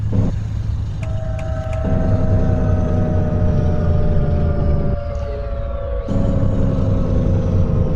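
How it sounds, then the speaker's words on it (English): A Scania T truck in Euro Truck Simulator 2 brakes on its retarder together with the engine brake, giving a loud, steady, tonal whine over a constant low drone. "man, that retarder sound was incredible"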